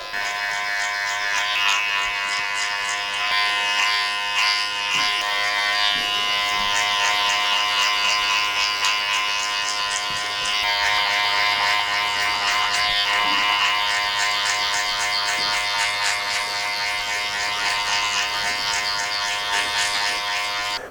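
Electric hair clippers fitted with a number 3 close guard cut hair in a steady, loud, continuous buzz lasting throughout, with slight variations in pitch as the blade moves through the hair.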